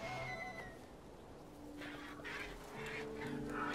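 Soft honking and squawking bird calls from the video game Broken Age, a few faint cries rising over a quiet ambient background, with no talking.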